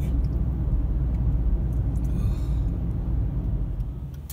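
Cars idle and creep along in congested road traffic, heard from inside a vehicle as a loud, steady low rumble and engine drone with no talking.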